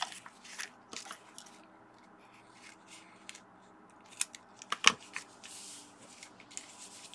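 Scissors trimming the edge of a paper envelope during a scrap-paper craft project, giving faint, crisp snipping and rustling paper sounds in short irregular bursts, with a sharper snip near the end.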